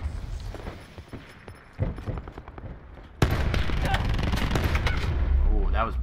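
Call of Duty Black Ops 4 gunfire starts as scattered sharp shots, then breaks into a dense, loud, continuous barrage of overlapping fire and game noise that lasts to the end.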